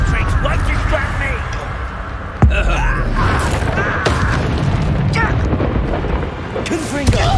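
Spell blasts from Bombarda and Confringo in the video game Hogwarts Legacy, sharp booms at about 2.5 and 7 seconds standing out from a dense, busy battle soundscape with continuous game noise and voices.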